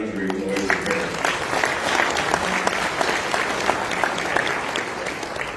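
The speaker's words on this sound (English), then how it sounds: "I think we owe a round of applause to Rick Gonser" An audience at a convention awards ceremony claps in a full, lively round, with a brief voice at the start and crisp individual claps standing out over the dense crowd sound.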